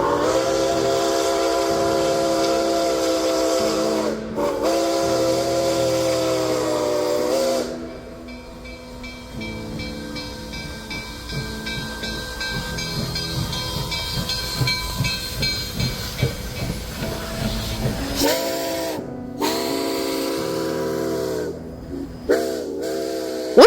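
A steam locomotive, No. 765, on the Cuyahoga Valley Scenic Railroad gives a long whistle, then huffs and hisses as it pulls away, chuffing rhythmically, before the whistle sounds again near the end.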